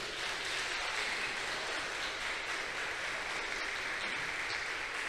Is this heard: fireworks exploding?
no